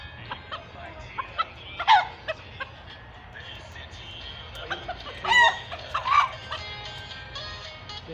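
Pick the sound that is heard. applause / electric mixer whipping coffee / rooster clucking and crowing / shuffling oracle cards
rooster clucking and crowing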